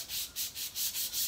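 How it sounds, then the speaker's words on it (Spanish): Wet sandpaper rubbed by hand over a bicycle seat, with water added to the paper, making close, steady back-and-forth scrubbing strokes in an even rhythm of about six passes, with no talking. "vamos a ponerle un poquito de agua aquí a lo que viene siendo la parte de las lijas"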